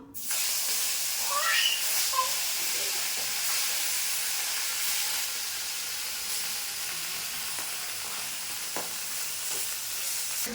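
Fish dropped into hot oil with turmeric in a pan, giving a loud, steady sizzle and hiss that starts sharply and carries on without talk.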